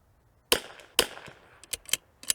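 A .22LR rifle fires several sharp shots, two well spaced and then a quicker cluster of cracks, close and loud with short tails and no talking.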